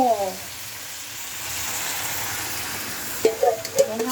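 Mung beans are tossed into a hot frying pan with softened sautéed ingredients for ginisang munggo, setting off a steady close sizzle, with a voice speaking briefly at the start and end.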